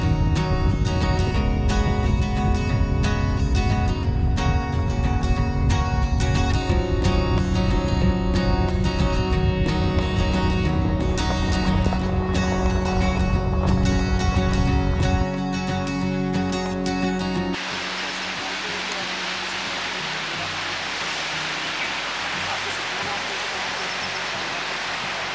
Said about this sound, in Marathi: इथे डॅमच्या जवळ पायऱ्या केल्या आहेत आणि त्यावरून सतत पाणी वाहत असतं.